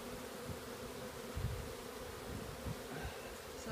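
Bees buzzing around their hive entrance in a yard, a faint continuous low hum with occasional closer passes swelling briefly, heard at a distance against quiet outdoor background.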